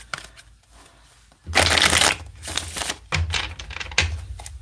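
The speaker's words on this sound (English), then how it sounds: "Let me get one more shuffle." A deck of tarot cards is riffled and shuffled by hand, with a soft riffle at first, then a loud, sustained flutter of cards followed by several shorter, crisp shuffling bursts, close up.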